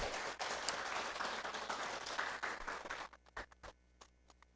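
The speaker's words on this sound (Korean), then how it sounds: "일어나실 때 우리 크게 박수해 주시기 바랍니다." A congregation applauds in church during a Wednesday evening service to welcome three visiting elders. Dense, sustained clapping fills the room, then thins to a few scattered final claps and quiet.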